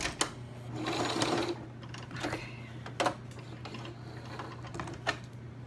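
A sewing machine stitching fabric tags runs in short bursts, its motor humming and needle clattering, with brief pauses and small clicks between runs.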